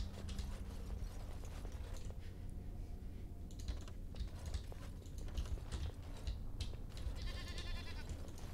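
A goat in the video game Wagon Age: Oregons! bleats briefly near the end, a short wavering call over a steady bed of game ambience and clicking.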